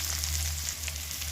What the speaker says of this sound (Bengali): সেই তেলেই আমি দিয়ে দিলাম পেঁয়াজ